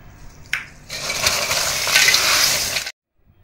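Crisp wheat flour chips tossed in a bowl with chili powder and salt, a steady dry rustling shuffle lasting a couple of seconds after a brief knock, then stopping abruptly.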